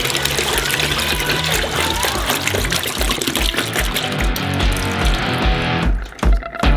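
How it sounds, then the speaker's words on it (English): Liquid eggs from bottles, twenty to a bottle, poured into a bowl for a giant wafer bar batter, a continuous wet pouring and trickling sound that breaks off briefly near the end. "We open up some bottled chicken eggs and pour them into a bowl."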